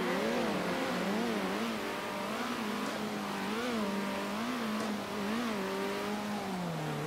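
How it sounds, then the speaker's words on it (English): A race car engine in the video game Circuit Superstars revs continuously, its pitch rising and falling in waves, loud and close, with no talking over it. "Revving your car uses fuel."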